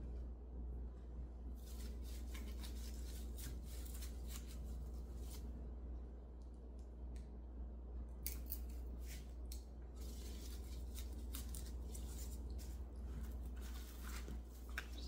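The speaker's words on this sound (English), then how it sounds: "Yes, it's hard to cut with the scissors." Scissors snip and crunch through material in a series of irregular close cuts, with scattered sharp clicks and rustles over a low steady hum.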